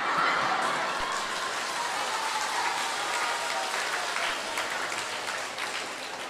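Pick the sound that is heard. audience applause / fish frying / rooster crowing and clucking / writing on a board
audience applause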